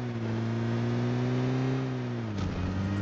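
Steady car engine hum while driving in a video game, loud and continuous with a slight pitch dip near the end.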